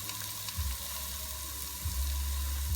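Carrots sizzle in hot oil for a Jamaican escovitch fish, a steady close hiss with low rumbling swells, heard alone.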